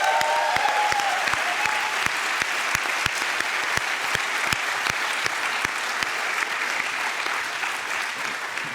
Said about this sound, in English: So Agatha, could you please stand up so we could give you a well-deserved round of applause?